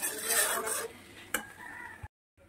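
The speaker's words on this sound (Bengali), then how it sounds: "বাড়ি এসে শাক ভাজতে শুরু করে দিলাম।" Chopped leafy greens fry in a pan at home. A soft sizzle runs under brisk stirring scrapes and one sharp utensil knock, then the sound cuts to silence near the end.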